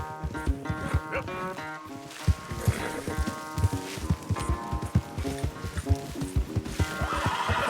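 A horse in the video game Red Dead Redemption 2 whinnies while its hooves clip-clop in a steady rhythm, with a brief voice heard over the game sounds.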